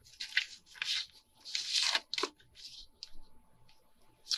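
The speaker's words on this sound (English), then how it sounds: "first of all, we're going to cut the pocket." Scissors cutting open a paper envelope pocket, a close series of crisp snips and papery rustles coming in uneven bursts with short pauses between.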